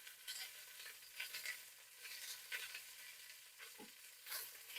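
Chunks of beef roast searing in a hot pan with a decent amount of fat for birria tacos: a steady, quiet sizzle and crackle with a few soft stirring scrapes, close by, with no talking.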